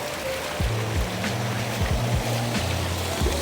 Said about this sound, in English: So check out the water feature.